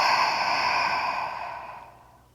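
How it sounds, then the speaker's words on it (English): A long, breathy exhale during a yoga stretch, close and fairly loud, fading out gradually toward the end. "Exhale out."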